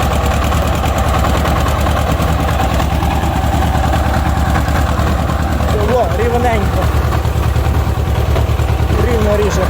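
A Shifeng SF 160 tractor engine runs steadily throughout, a loud continuous low chugging drone, with faint voices mixed in near the end.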